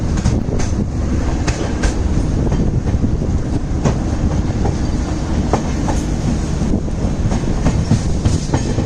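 A Madgaon–LTT double decker express pulling into Chiplun railway station, loud continuous rumble with rhythmic clickety-clack of wheels over rail joints and occasional sharp metallic clanks, close by and sustained throughout.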